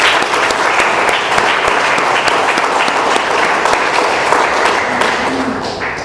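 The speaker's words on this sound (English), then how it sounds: "Let's have another round of applause for Cheryl, that was fantastic." Round of applause from an AA meeting audience, loud sustained clapping from many people with crisp individual claps standing out, steady throughout with slight tapering at the end.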